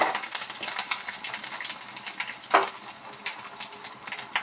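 Panch phoron spices and chopped ginger fry in hot oil with dried chillies and bay leaves, giving a close, crackling sizzle with small pops and a sharper spatter midway, alone without talk.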